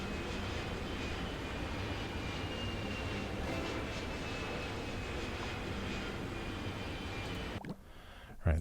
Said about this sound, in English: the sound of those airplanes just does not stop, does it?